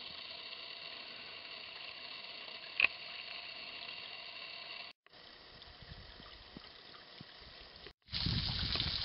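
Small waterfall in Hemmed In Hollow trickling a thin stream of water, a steady close hiss with brief gaps and a louder, fuller rush toward the end, no voices.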